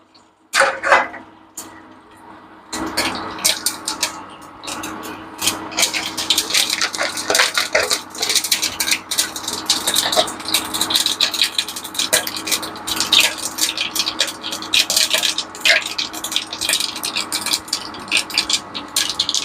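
Mustard seeds splutter in hot oil for a Kerala curry, a dense, loud crackle of rapid pops that runs continuously after a few sharp bursts at the start.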